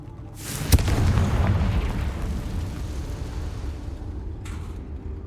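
A Confringo blasting curse in Hogwarts Legacy goes off as a sharp, loud crack that swells into a booming explosion, then leaves a long rumbling tail that slowly fades, with a faint second burst near the end.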